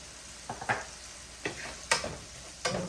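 Seasoned ravioli lasagna ingredients with parsley flakes, parmesan and Italian seasoning are tossed in a pan, giving five or six soft scraping stirs over a faint sizzle, spaced unevenly and without talk.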